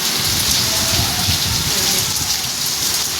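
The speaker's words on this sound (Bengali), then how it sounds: "সত্যি একদম মুষলধারে বৃষ্টি পড়ছে" Heavy rain pours down in a loud, dense, unbroken roar, close and constant throughout.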